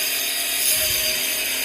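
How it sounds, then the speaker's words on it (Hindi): Drilling close by gives a steady, harsh, grinding whir that runs without a break through the whole moment and stays fairly loud. "और यहाँ ड्रिल हो रही है तो हो सकता है मेरी आवाज़ प्रॉपर ना आए आपको।"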